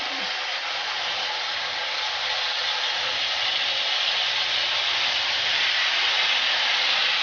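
Marinated beef steak sizzling in a frying pan, a continuous loud even hiss of frying that holds steady close up throughout, with no talk.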